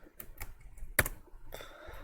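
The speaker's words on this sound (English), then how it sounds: "here I am typing the name" A computer keyboard being typed on at close range, with several sharp, separate key clicks in an irregular rhythm and one louder keystroke standing out, over a quiet background with no talking.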